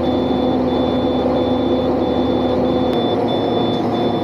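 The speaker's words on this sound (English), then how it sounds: "this truck's gonna beep at us the whole freaking time because this one's out of air" A truck's high-pitched low-air warning beep repeats at a steady rhythm over a loud idling diesel engine nearby.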